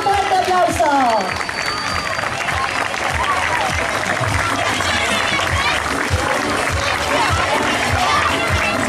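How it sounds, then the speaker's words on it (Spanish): Loud, continuous applause and crowd cheering as the host athletic club enters a swimming competition at an indoor pool, with announcer speech over the start and busy chatter throughout. "con un muy fuerte aplauso"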